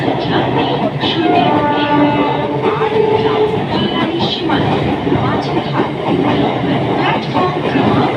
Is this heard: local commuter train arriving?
yes